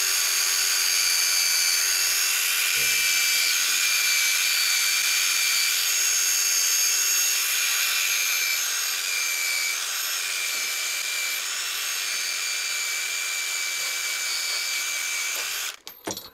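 A low-speed drill spins a wire wheel to strip rust from a Diacro finger brake, a sheet-metal brake, giving a steady, loud, high whine for about sixteen seconds before it cuts off abruptly at the end.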